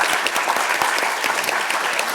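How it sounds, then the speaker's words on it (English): Dense, steady applause from an audience at a science talks event on saving species fills the room, many hands clapping together at close range. "I just want to give a round of applause and thanks to our 4 very brilliant speakers"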